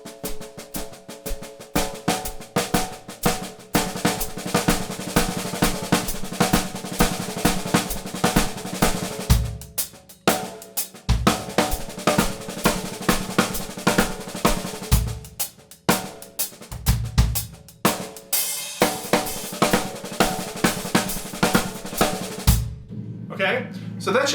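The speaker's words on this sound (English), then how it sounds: "I double all the notes that are not accenting" A drum phrase is played with double strokes on every unaccented note, giving a dense, rapid stream of hits with brief breaks near the middle and a short gap near the end.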